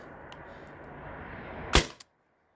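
A single sharp shot from an air-powered launcher, fired over a chronograph, cracks loudly near the end after a steady background hiss, followed by a brief click.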